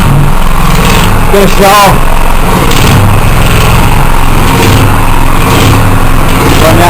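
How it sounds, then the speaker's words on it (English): A small, very compact air compressor runs off a generator that is low on petrol, giving a steady, loud mechanical drone throughout, with a person talking briefly over it. "This is a little itty bitty compressor."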